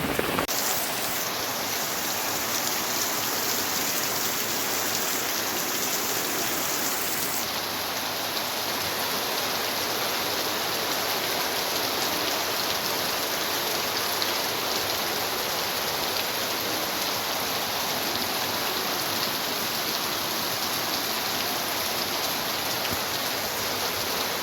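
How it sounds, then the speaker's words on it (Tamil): Heavy, continuous rain pours onto paddy fields in Jaffna, a dense steady hiss that holds at the same loudness for the whole stretch, close and enveloping, with no voices. "பாருங்க மழை இன்னும் பெஞ்சு கொண்டு தான் இருக்குது."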